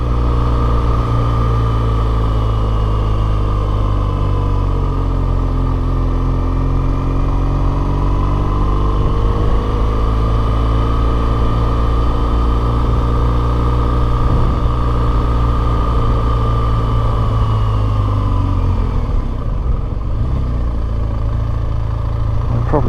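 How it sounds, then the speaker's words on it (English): A car engine labours steadily in first gear, a loud continuous drone whose pitch slowly rises and falls as it strains uphill through the Gap of Dunloe in Ireland, dropping near the end. "you can probably hear the engine labouring in first gear"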